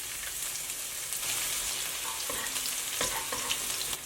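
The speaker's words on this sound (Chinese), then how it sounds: "锅中油热，放入蒜末，炒出香味" Minced garlic fries in hot oil in a wok, crackling and sizzling steadily at close range, with a few light scrapes and taps from stirring and no voices.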